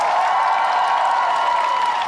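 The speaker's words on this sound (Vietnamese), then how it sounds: "Gieo em một tràng pháo tay to hơn được không ạ?" Audience applause at a dance competition gala, a dense, steady roar of clapping from a large crowd, loud and continuous throughout.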